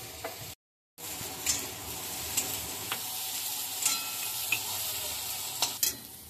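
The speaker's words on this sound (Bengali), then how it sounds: "তেল গরম হয়ে গেছে, আমি তেলের মধ্যে পেঁয়াজগুলো ছেড়ে দিচ্ছি" Onion, garlic and ginger fry in hot oil with a steady, close hiss, cut by a brief half-second gap near the start and dotted with sharp spoon-and-pan clinks as the mixture is stirred.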